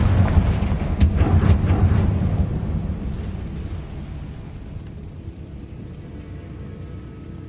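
A Confringo blasting spell from Hogwarts Legacy erupts in a burst of sharp booming explosions, several cracks packed close together in the first two seconds, then a long rumbling decay that fades under a low roar.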